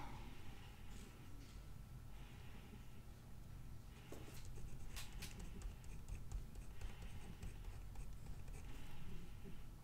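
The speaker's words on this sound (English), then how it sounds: "I'm just gonna write dinner." A Shuttle Art InkGlide pen writes in a Big Happy Planner, a faint close scratching of the nib on paper running steadily throughout, with a few quick strokes and tiny taps, no talking.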